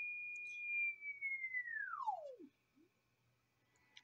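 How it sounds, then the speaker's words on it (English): A steady electronic sine tone from a homebrew 455 kHz BFO holds its pitch, then sweeps smoothly downward and fades out, leaving near silence with a faint low hum. "the sine wave there changes as well."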